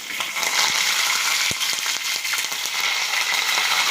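Green chillies fry in hot oil in a home kitchen, giving a loud, continuous sizzle with scattered small crackles and pops, close up and with no speech.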